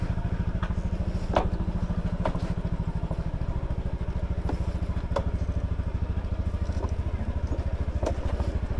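A motorcycle engine with a faulty knuckle idles with a rapid, even low-pitched thrum. Faint clicks and ticks recur over it, and the sound stays close and steady throughout.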